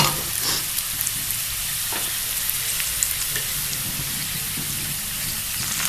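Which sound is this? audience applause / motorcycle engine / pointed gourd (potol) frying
pointed gourd (potol) frying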